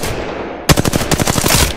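Weapons fire in the battle royale game Apex Legends, with a loud, rapid automatic burst of close gunshots that erupts after a quieter background lead-in.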